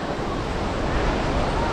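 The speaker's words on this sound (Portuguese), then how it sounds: "Dividindo a pancada do mar ali." Ocean surf breaking against the reefs at Boa Viagem beach in Recife, a steady broadband wash with wind noise, moderately loud and continuous.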